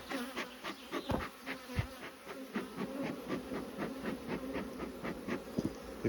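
Honeybees buzz busily at an apiary hive, a close, dense drone with individual bees zipping past in rising and falling passes and a few sharp knocks in between, no voices.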